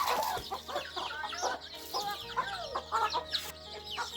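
A bantam chicken clucks in a quick, uneven run of close, moderately loud calls in a rural village yard. No talk is heard.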